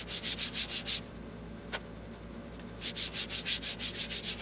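Quick rhythmic sanding strokes rasp back and forth on cloth-backed sandpaper stuck to an MDF sanding board, in two bursts separated by a short pause, close and fairly quiet.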